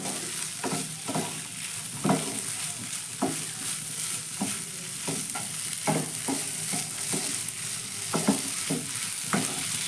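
A kachori filling seasoned with Maggi masala is stirred in a hot pan, with a spatula scraping and knocking at an uneven rhythm over a continuous low sizzle, close by and with no voices.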